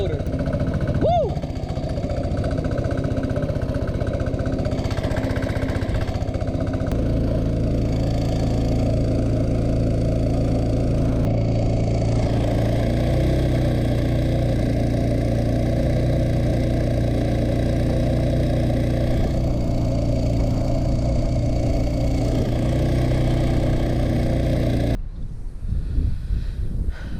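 A boat's mud motor runs steadily in a marsh, a loud, continuous low engine drone that holds for nearly the whole stretch before cutting off near the end, with someone talking over it.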